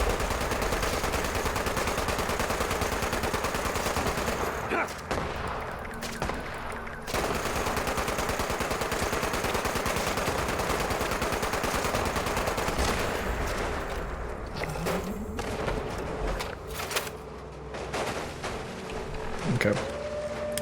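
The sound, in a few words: gunfire in Fallout 76 video game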